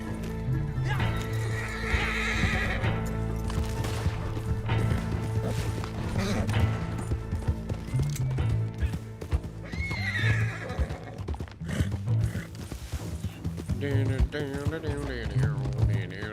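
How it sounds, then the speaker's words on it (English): Horse in a video game whinnies and neighs repeatedly over steady clip-clopping hooves, loud and continuous, with a dense game soundtrack underneath. "let me on the fucking horse!"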